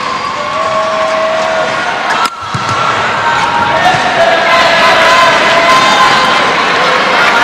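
Sustained crowd applause and cheering in a badminton arena after a SEA Games men's team semi-final win, a loud dense wash of clapping that carries on steadily, with a commentator talking over it.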